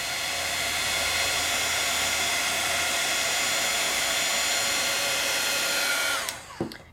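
A heat tool blows a steady, loud, whirring hiss over embossing powder with metallic ink for about six seconds, then switches off with a brief clatter.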